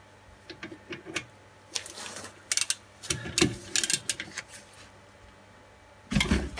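A ratchet wrench with a long extension bar turning the rear brake caliper bolt on a BMW F46, quick irregular clicking bursts with pauses between them and a heavier clunk at the end.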